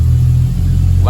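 A Toyota Supra Mk3 engine runs with a loud, steady low rumble throughout, close by, and a brief voice comes in at the very end.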